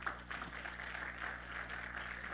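A church congregation claps during a sermon, a faint, distant patter of applause over a low hum.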